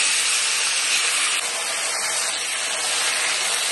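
Marinated rohu fish sizzles steadily in hot oil with two pieces of cinnamon in a wok, a loud, even frying hiss with no talking.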